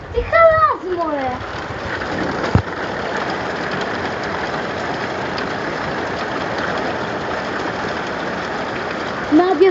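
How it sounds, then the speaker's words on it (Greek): Steady broadband rain hiss falling throughout, with a voice and a brief knock near the start and more talk at the very end. "δεν ρίχνει χαλάζει, βροχή είναι εκεί από τη βεράντα"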